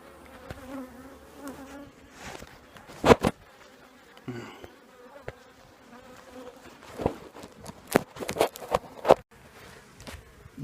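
Honeybees at an opened hive during a split buzz near and far, with individual insects passing close in loud short bursts over a quiet background, alongside occasional handling noises.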